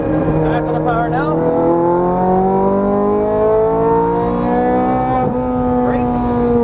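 A Ferrari 430 Scuderia accelerating on a race track, the engine pitch climbing steadily through a long pull, loud and close, with an upshift near the end, and someone talking over it.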